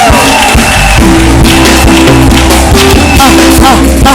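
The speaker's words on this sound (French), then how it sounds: "Fluide d'acclamation pour Jésus." Church congregation cheering and shouting acclamations to Jesus, a loud, dense crowd roar with whoops and raised voices over music, sustained throughout.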